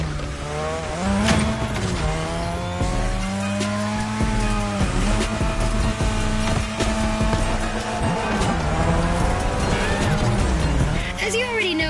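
A car drifts around a drift track in a racing video game, with engine roar rising and falling and long tire squeals, loud and continuous beneath someone talking.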